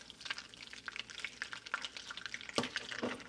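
Butter foaming and sizzling in a pan as it browns, a soft steady crackle of tiny popping bubbles with occasional louder spits, close and fairly quiet.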